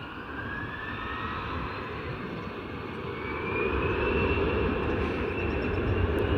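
A fixed-wing airplane passes unusually loudly at Springfield Branson National Airport, a broad steady engine roar with a whining tone that swells in the second half, close and dominant with no talking.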